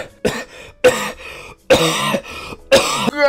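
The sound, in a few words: coughing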